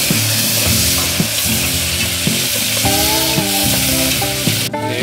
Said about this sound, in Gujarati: એમાં નાખી દઈશું હવે આપણે ટમેટા.